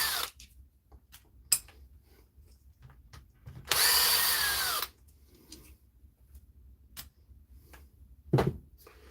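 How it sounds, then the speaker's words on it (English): A cordless screwdriver whirs in one short, loud burst of about a second while removing screws, with scattered clicks and handling knocks around it and no talk. "cordless screwdrivers"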